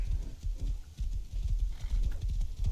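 Horse hooves clip-clopping in the Rust video game as a rider moves at speed, a quick steady rhythm of close, loud hoofbeats with no talk over them.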